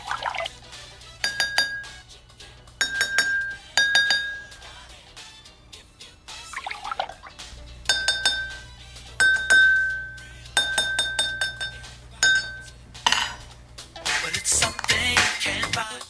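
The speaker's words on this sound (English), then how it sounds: "Repeat this process until both glasses are in tune," Two drinking glasses, tuned with water, ring out in alternating clear struck tones, with short gaps of quiet between notes, a low background hum, and some clinking and pouring near the end.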